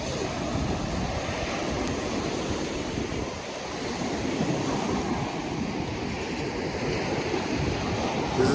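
Ocean waves wash steadily onto Marina Beach in Chennai, a broad continuous roar of surf mixed with wind buffeting the microphone, with no clear breaks between swells.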